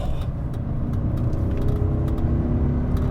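A BMW E39 M5 with its S62 V8 engine accelerates from inside the cabin, giving a loud, steady, rising engine drone with road noise underneath and no talking.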